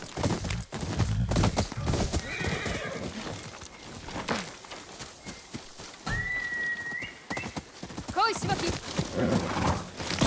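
Horse sounds from the video game Ghost of Yotei: a whinny and snorts over scattered hoof clops and other game effects, fairly close, with someone talking over part of it.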